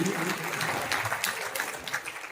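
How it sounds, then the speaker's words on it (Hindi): An audience at a community meeting ahead of a Ram Navami procession claps to welcome a woman guest, giving a short burst of steady, moderately loud applause. "मैं चाहूंगा उनका भी जोरदार तालियों से स्वागत करिए"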